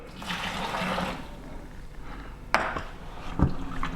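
Hot water poured into a fermentation bowl holding caster sugar, a sloshing pour at close range followed by a few knocks and clinks against the bowl.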